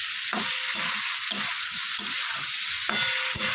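Food frying and being stirred in a pan on a home stove, a steady close sizzle throughout with soft scraping and stirring knocks.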